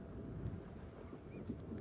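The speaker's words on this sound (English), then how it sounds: "A little bit of a windy afternoon." Wind gusting across open bush on a blustery afternoon during a safari game drive, a steady low rumble of buffeting against the microphone with no talk.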